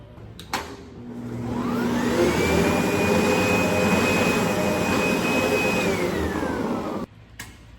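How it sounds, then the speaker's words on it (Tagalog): A vacuum cleaner switches on with a click, whines up to a loud steady roar for several seconds, then winds down and clicks off. "Vacuum na lang dun."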